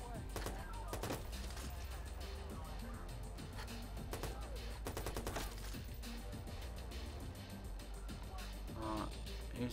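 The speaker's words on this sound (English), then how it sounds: "Alright, looks like I'm gonna have to shoot these fuckers" Gunshots and bursts of gunfire in the video game Watch Dogs on Xbox One, loud and repeated in irregular volleys over a dense, continuous game soundtrack.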